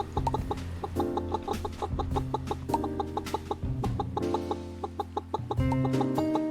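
Chickens in a farm building in the game Pumpkin Days cluck in quick, repeated bursts, close and loud, layered over a steady looping game tune with no talk.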